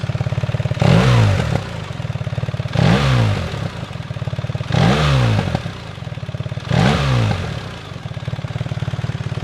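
A BMW R1300 GS motorcycle with an aftermarket exhaust, valve closed, idles with a lumpy throb and is blipped four times at regular intervals, each rev rising sharply then falling back to idle, close and loud.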